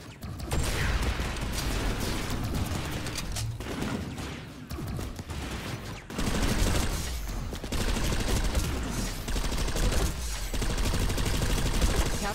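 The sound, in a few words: video game gunfire from rocket launcher or light machine gun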